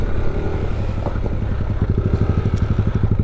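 Motorcycle on a rough, bumpy campsite dirt road by a river, its engine running steadily and close with rattling clatter and a rapid, pulsing rhythm as it bounces over the uneven ground.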